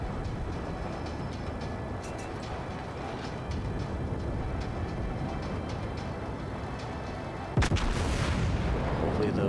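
Heavy naval guns of the battleship USS New Mexico fire in a warship video game, a deep booming salvo breaking out near the end over a constant low engine and sea rumble.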